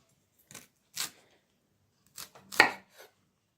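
A knife cuts through fennel stalks in about six crisp, separate chops against a board, close and clear, with silence between the strokes.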